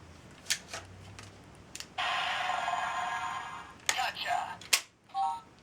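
Pressing a button on a Power Rangers Megaforce toy phone triggers a sustained electronic tone of roughly two seconds, surrounded by clicks of handling the toy and a speaking voice.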